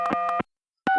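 Telephone tones in the video game Gabriel Knight: Sins of the Father, a few quick electronic beeps, a short silence, then another tone burst, clean and close.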